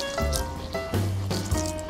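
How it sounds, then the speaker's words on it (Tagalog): Water poured in small amounts into a pot of chicken being cooked with pineapple, giving short wet splashes and sloshes that come in a few bursts. "Ngayon po ay maglalagay lang po ako ng kunting tubig sa ating manok"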